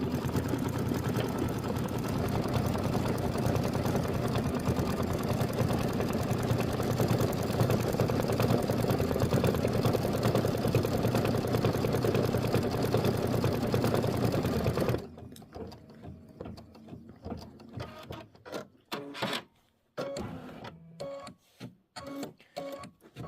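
An embroidery machine stitches the stamen fill of a Kimberbell butterfly quilt block, first with a loud, steady mechanical whirr for about fifteen seconds, then quieter, stopping and starting in short rhythmic bursts.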